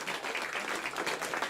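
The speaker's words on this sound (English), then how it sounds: "In the room there at the Jet Propulsion Laboratory erupting in applause." A room at the Jet Propulsion Laboratory erupts in steady, dense applause from a crowd of team members, continuous clapping with cheering that stays fairly even and moderately distant throughout.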